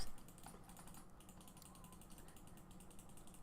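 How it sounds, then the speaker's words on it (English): Computer mouse clicking rapidly during a game of Dinkum, a quick, faint, rattling stream of clicks that runs steadily throughout with no talk. "I don't know if you guys can hear me clicking"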